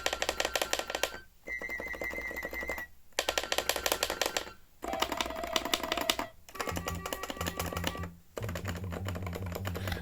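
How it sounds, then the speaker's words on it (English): Keys on a well-used Casio MT-800 electronic keyboard clatter in dense rapid clicking runs, loud and close, broken by short pauses, with faint sustained electronic tones sounding beneath some passages. "A lot of these keys are sort of just like banging when you release them."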